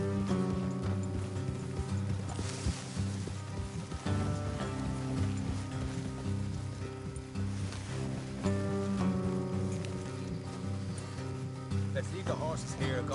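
Horses' hooves clip-clop steadily in a video game, a continuous rhythmic trotting under music and ambient noise, with voices talking over it.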